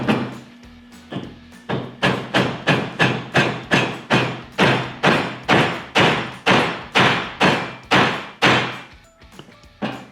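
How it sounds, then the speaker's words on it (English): Steady hammer blows strike a wooden part into a router table, about twenty sharp knocks in an even rhythm, close and loud, with no talking. "we place this on there and we hammer it in"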